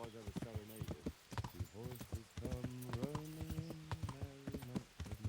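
Horse hooves clip-clop in a quick, steady rhythm in a video game battlefield, close and clear, layered over sustained tonal sounds that may be voices or game music.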